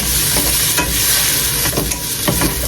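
Onions sizzle and fry steadily in a pan for a Filipino radish dish, a loud continuous crackling hiss with a few brief stirring scrapes and no talking.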